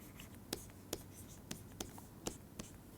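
Chalk or a marker writes an equation on a board during a lecture on logistic population growth, about seven sharp taps and strokes in an irregular rhythm, faint and close in a quiet room.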